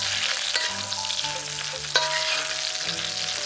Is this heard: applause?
no